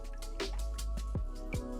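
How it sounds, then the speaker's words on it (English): Water drips falling from an aquarium drip acclimation line into a bucket, several distinct close plinks at an uneven rhythm over a low steady hum. "make sure the drips are running at a suitable level."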